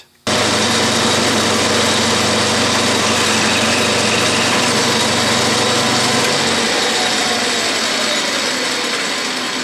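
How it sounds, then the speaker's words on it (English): A South Bend metal shaper machines steel on a slowed feed, giving a steady, loud mechanical whir with a continuous motor drone that holds unbroken throughout, alone with no talk. "I'll slow down the feed for that"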